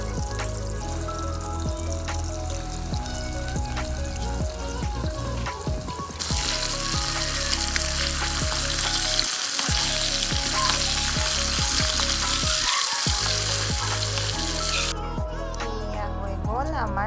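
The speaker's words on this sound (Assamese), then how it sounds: "এতিয়া মাছখিনি ফাৰ্ষ্ট টাইম ফ্ৰাই কৰি ল'ম।" Pieces of fish sizzle steadily in hot oil in a pan, a loud continuous frying hiss that swells midway, with a few clinks and soft background music or voices beneath.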